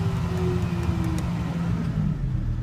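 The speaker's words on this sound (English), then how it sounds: "I don't know if I showed the throttle going up." The diesel engine of a Volvo ECR235DL excavator hums at a steady idle nearby, its tone rising slightly as the throttle is raised.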